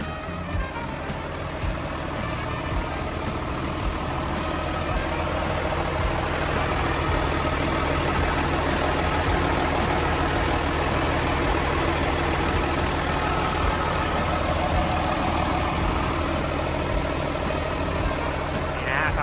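A Komatsu WA470-5 wheel loader's six-cylinder turbo diesel engine idles steadily and close by, a constant low rumble with a high whine, while someone talks over it.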